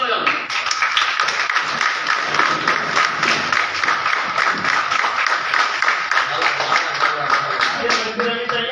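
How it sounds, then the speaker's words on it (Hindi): A crowd applauds at a city press club gathering in Faridabad, with dense, steady clapping that carries on without a break and stays fairly loud. "एक बार ताली बजा दो।"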